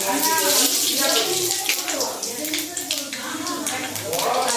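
Panch phoron spices sizzling in hot mustard oil in a wok, a loud, steady crackling hiss close up, with a voice talking over it.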